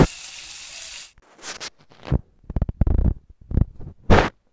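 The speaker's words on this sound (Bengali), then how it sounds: "এখন অন্য সাইড ভাজা হওয়ার জন্য আমি মাছগুলো উল্টিয়ে দিলাম" Fish pieces frying in oil in a pan give a steady close sizzle for about a second, followed by sharp bursts of crackling and spattering as the fish is turned, loud and without talk.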